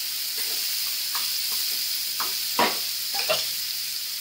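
Two tomatoes softening in a hot pan for dum aloo, a steady sizzle broken by occasional spoon scrapes and light clinks as they are stirred.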